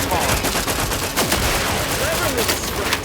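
Gunfire in The Outer Worlds 2 on PC, a steady stream of rapid shots and impacts filling the whole moment at close, loud level with game effects layered over it.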